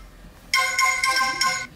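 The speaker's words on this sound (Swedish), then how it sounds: "Ja, nu ringer jag, vi tar den." A phone ringtone plays for an outgoing call as a short, bright electronic melody with a few pulsing tones lasting about a second, in a quiet room with no voices.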